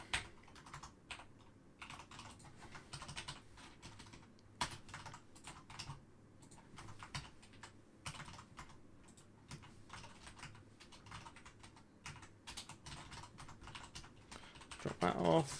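Steady close-up typing on a computer keyboard while writing code: continuous fast clicking keystrokes with brief pauses and occasional heavier key presses, and a person talking quietly over it.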